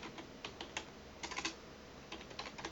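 Fingers type on a computer keyboard in quick, irregular bursts of soft clicks, close but quiet, with no voices.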